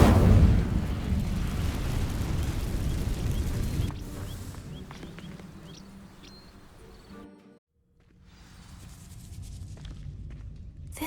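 A video game fire spell sets dry vines ablaze, producing a loud rushing burst that settles into a lower rumbling crackle, fades almost to silence, then returns as a softer steady roar.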